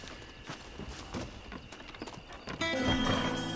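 A horse-drawn stagecoach in Red Dead Redemption: hooves clip-clop at a steady trot with wheels rumbling, then a horse whinnies loudly near the end.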